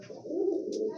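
A male pigeon coos in a short, soft rising-and-falling call, close by in a quiet pigeon house, with a faint higher chirp near the end.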